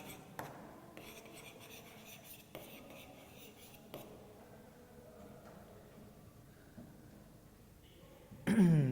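Handwriting in a math lesson, with soft pen or marker strokes and brief scratches on a writing surface, faint and close, with a few sharper taps and a louder bump at the end.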